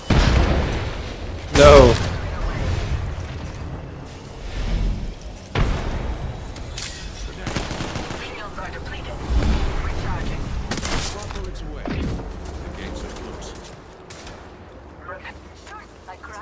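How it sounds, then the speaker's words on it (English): Grenades explode repeatedly during an Apex Legends ranked firefight: sharp booms and thuds mixed with gunfire at irregular intervals, with a player talking over the chaos. "So many grenades and shit."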